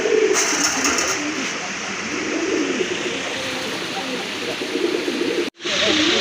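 A pair of Rajgolla fancy pigeons coo softly beneath a loud, steady rushing wash of background noise, with a brief dropout near the end.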